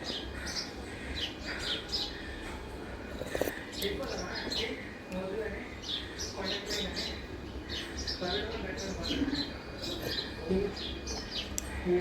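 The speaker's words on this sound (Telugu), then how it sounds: "అక్కడ ఒక పక్షి ఉంది చాలా ఉంటాయి చిట్టి పక్షులు" Small birds chirping from a tree, their tweets scattered across the clip under a steady background of people talking during a morning outdoors.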